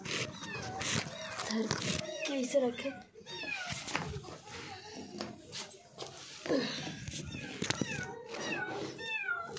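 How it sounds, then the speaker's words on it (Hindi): A cat meows repeatedly, with rising and falling cries scattered throughout, under someone talking nearby and some household clatter. "और दोस्तों इधर बिल्ली बोल रहा"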